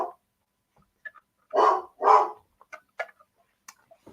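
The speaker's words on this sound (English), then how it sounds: "Hey, Bruno, what are you barking out there for" A dog barks outdoors, two loud close barks in quick succession, followed by a few faint scattered ticks and small noises in an otherwise quiet space.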